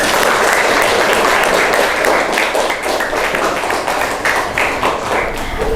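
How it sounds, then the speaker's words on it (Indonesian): Classroom applause for a student group that has just presented, steady loud clapping from many hands filling the room for several seconds, with no talk over it. "Untuk menghargainya, kita berikan apresiasi tepuk tangan."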